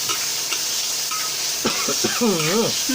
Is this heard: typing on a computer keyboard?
no